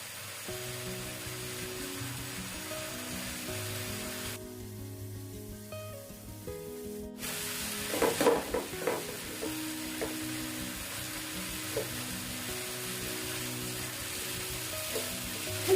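Chicken meat simmers in a pan as a filling for crispy rolls, seasoned with soy sauce and white pepper, giving a steady, close sizzle that runs throughout beneath soft background music.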